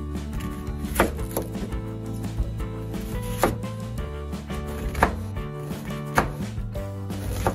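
A knife slicing through an onion on a cutting board: a handful of crisp, separated cuts, near and moderately loud, over steady background music.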